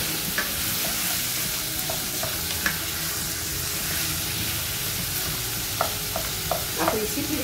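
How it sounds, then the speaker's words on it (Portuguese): Chicken pieces for stroganoff sizzle steadily as they brown in a pan, with a constant loud frying hiss and occasional scraping clinks of a utensil stirring through them, no voices. "Agora vamos destampar e dar uma mexida. Ele começa a bronzear."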